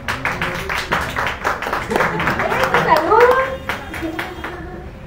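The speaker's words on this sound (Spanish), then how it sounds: "aplauso." A small crowd at a wrestling championship presentation claps in scattered, uneven bursts, with voices calling out over the applause.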